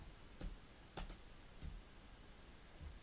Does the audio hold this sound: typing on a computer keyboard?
yes